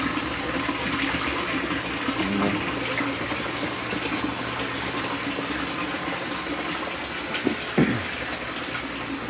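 Water running constantly through black hoses to buckets in a greenhouse and draining back through a drain system, a steady close trickling and rushing flow with a faint clunk near the end.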